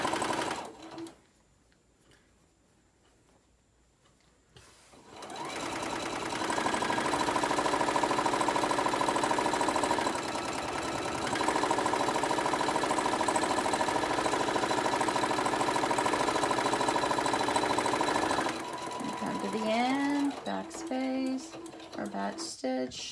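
A sewing machine stitches a Christmas pillowcase seam, starting after a few quiet seconds and then running as a loud, steady, close mechanical whir for about thirteen seconds before stopping.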